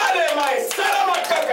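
A church congregation claps in praise during a service, a quick run of handclaps blended with voices raised together.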